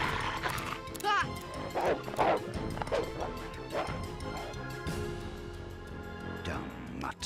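A cartoon dog barks and yips in several quick, loud bursts amid crashes and whimpers, mixed with shouting voices.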